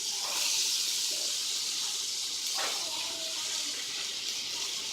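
Snap peas and corn sizzling in a hot pan for a veggie pesto pasta, a steady bright hiss with a brief clatter partway through, close and alone without speech.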